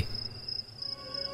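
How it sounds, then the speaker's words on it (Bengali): Crickets chirping at night in a village, a steady high trill over a low, quiet background. "রাতের ঝিঝি পোকা ডাকছে"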